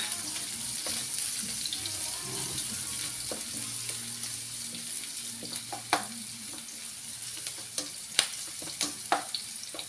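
Onion sautéing in a pan after garlic, a continuous close sizzle with occasional scraping clicks of a spoon that grow more frequent toward the end.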